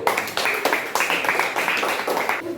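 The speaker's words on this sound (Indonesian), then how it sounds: "Kita tepuk tangan semuanya" Seventh-grade students in a classroom clap together in a burst of rapid, uneven hand claps lasting a couple of seconds, fairly close and moderately loud, with no talk over it.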